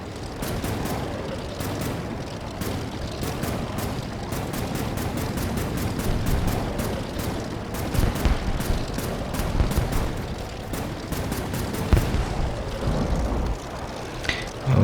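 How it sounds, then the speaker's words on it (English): Rapid bursts of gunfire ring out continuously while shooting enemy planes in an air combat video game, with dense repeated shots and occasional louder bangs. "I just start shooting at these dudes"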